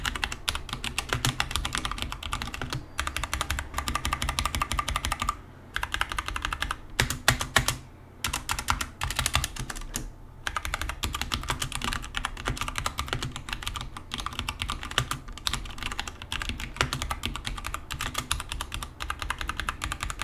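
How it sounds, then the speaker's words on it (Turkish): Typing on a James Donkey 619 mechanical keyboard with bronze switches, steady close-up clacking keystrokes in quick irregular bursts with brief pauses, no voices. "James Donkey 619 bilmem ne işte bu klavye. Kendisi bronze switch bir klavye."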